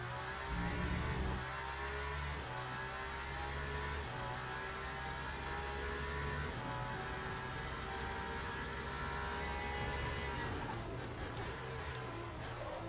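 In the Le Mans Ultimate racing game, a race car engine revs and changes pitch through gear shifts, a fairly quiet, continuous drone.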